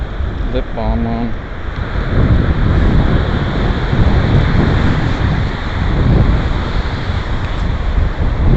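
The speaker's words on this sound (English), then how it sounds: "it's fucking windy" Strong wind buffets the microphone on a Fort Lauderdale beach, roaring steadily over the wash of nearby surf, with a voice briefly audible early on.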